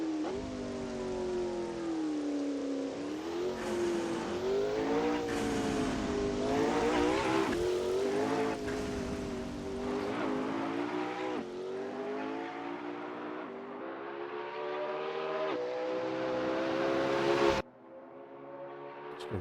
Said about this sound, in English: Sounds amazing, that car, doesn't it?